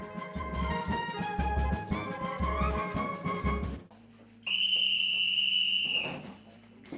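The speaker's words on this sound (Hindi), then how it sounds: "ठीक 10 बजे की सीटी ऐलान करती है सोने के वक्त का।" At Indian Army training, a bedtime whistle blows one steady, shrill note for about a second and a half, following a stretch of music.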